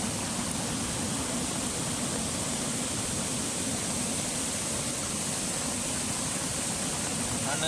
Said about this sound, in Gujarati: આ નદી જુઓ કેટલું પાણી ડેન્જર જાય છે